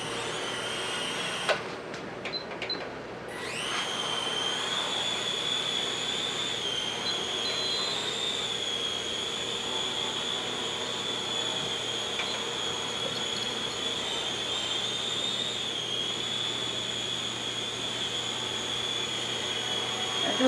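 A Blade Runner HeliQuad 2.4 quadcopter flies indoors, its motors spinning up after a few rattling clicks into a steady, piercing high-pitched whine that holds with slight wavers throughout.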